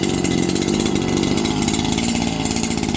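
A Stihl FS 76 weedeater, its primer bulb just replaced, idles close by with a steady, buzzing two-stroke engine drone that holds even and loud throughout, with no voices.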